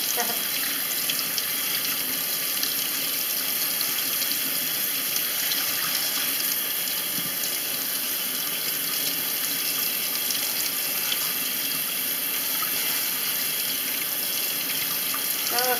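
Running tap water pours steadily into a sink while beautyberries are washed, a constant close splashing rush with light sloshing from the berries being moved around.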